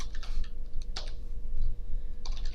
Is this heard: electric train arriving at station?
no